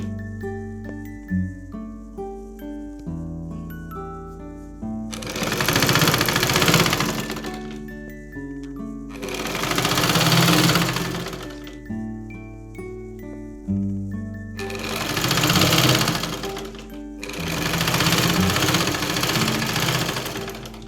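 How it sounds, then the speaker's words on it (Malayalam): A sewing machine stitches a folded sleeve seam with piping on a tulip sleeve, running in four loud whirring bursts of several seconds each, with quiet pauses and background music between them. "ഇതുപോലെ മടക്കി നല്ല വശത്ത് വെച്ചിട്ട് അടിക്കാം."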